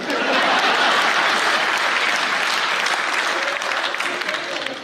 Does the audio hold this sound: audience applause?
yes